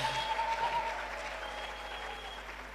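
A church congregation applauds, a dense patter of clapping that starts fairly strong and slowly fades while staying distant and soft.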